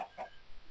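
A Minecraft chicken gives two short clucks in quick succession, quiet and close, with no talk.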